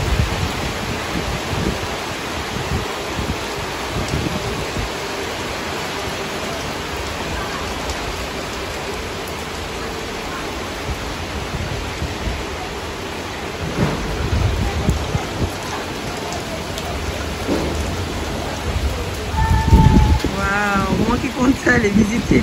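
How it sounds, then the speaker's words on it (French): Steady heavy rain pours down in Conakry, Guinea, a dense continuous hiss with low thunder rumbles rolling underneath and swelling louder toward the end. "Voilà la pluie à Conakry."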